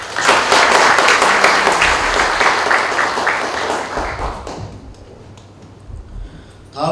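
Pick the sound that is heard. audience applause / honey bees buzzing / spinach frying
audience applause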